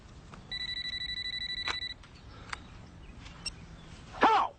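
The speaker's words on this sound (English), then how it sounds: "Oh. Phone." A telephone bell rings in a rapid steady trill for over a second, followed by a few faint clicks and a brief loud rustle as it is answered.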